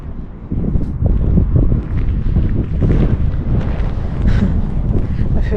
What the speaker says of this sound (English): It's pretty windy up here